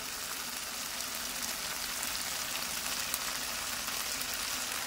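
Spices for chicken masala sizzle steadily in a hot pan, a dense, even crackling hiss that runs close and unbroken with no voices.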